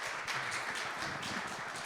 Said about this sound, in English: So can we give Aaron a good round of applause and a welcome?